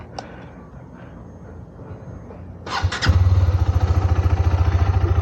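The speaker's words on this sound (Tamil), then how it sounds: "இந்த பைக்கு வந்து சவுண்டு நல்லா இருக்கும்." A KTM Duke 390 motorcycle engine cranks and fires up after quiet ambient noise, then settles into a loud, steady, throbbing idle close by.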